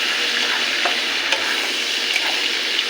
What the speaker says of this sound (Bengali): কাঁচা লঙ্কা আর একটু পেঁয়াজ পেস্ট করে রেখেছি, সেটাকে দিয়ে দেবো। একটু নেড়ে চেড়ে ভেজে নেব।